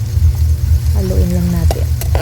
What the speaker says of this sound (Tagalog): Haluin na lahat.